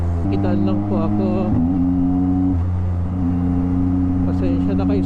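A 2023 Yamaha MT-09 motorcycle riding in city traffic in sporty mode, its steady engine drone holding loud and close with small pitch shifts, while someone talks over it.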